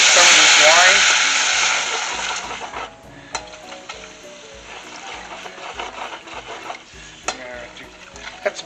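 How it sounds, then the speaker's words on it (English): Wine poured into a hot pan hits with a loud burst of hissing sizzle that quickly settles into a quieter bubbling simmer, with scattered utensil clinks and scrapes close by and a voice talking over it. "now deglaze it with some of this wine"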